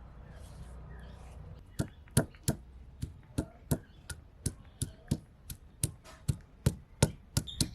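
Ginger, garlic and onion being crushed together as masala paste for a mutton curry, heard as a steady run of sharp, close pounding strikes roughly every half second, preceded by a quieter stretch of background noise.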